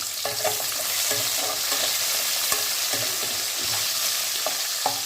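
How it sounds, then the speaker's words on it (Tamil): Sambar onions sauté in a pan for a village-style kuzhambu, a steady close sizzle with scattered stirring clinks and scrapes throughout, no talking. "நல்ல வெங்காயம் வதங்கி வரட்டும் பார்க்கலாம்"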